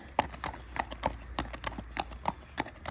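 Shod hooves of a young Friesian sport horse gelding clip-clop in a steady, even walking rhythm, each strike crisp and fairly close, with faint background noise between beats.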